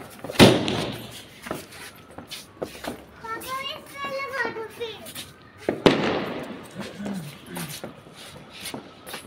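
Diwali firecrackers, including a large bomb-type cracker, burst outdoors in loud sharp bangs near the start and again around the middle, with children and adults talking and crackling noise between the blasts.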